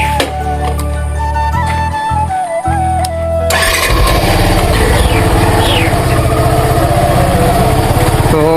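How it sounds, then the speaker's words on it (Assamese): A motorcycle engine starts up close by. After a few seconds of mixed noise it catches and settles into a loud, steady, fast-pulsing idle that keeps on running with no talk over it. "এইপিনে আমাৰ বাইক"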